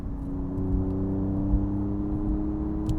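Engine of a 2023 Alfa Romeo Giulia QV humming steadily from inside the car as it pulls along, a low even drone with slight pitch shifts and no voices.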